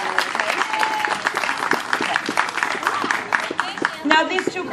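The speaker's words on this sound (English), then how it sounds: "if we can give Trevor a round of applause for what he did for HalstonHills" An audience at a community 25th anniversary gathering claps for an honored man, a scattered round of applause with people talking and calling out over it throughout.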